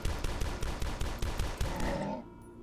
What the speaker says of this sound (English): Ooh, explosions.